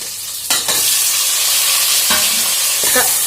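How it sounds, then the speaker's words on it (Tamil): Tomatoes and potatoes sautéing in a pan for an egg curry, a steady close sizzle broken by three sharp scraping stirs of a spoon against the pan, with no voices. "தக்காளி நல்லா வதக்கி விட்டுக்கோங்க"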